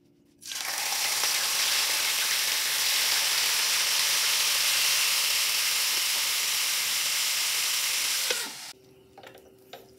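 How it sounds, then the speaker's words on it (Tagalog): Marinated pork for pork ala king dropped into a hot pan, breaking into a loud, steady broadband sizzle and hiss that holds for about eight seconds before cutting off abruptly. "After marinated, ito na yung ating pork. Piprito na natin."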